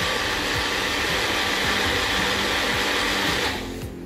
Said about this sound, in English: One more blend, as I like my sauce to be refined.